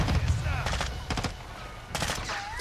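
Turret gunfire in the Call of Duty: Modern Warfare II campaign, heard as rapid bursts of shots over a steady battle din, with a bolder burst near the end and a low rumble throughout.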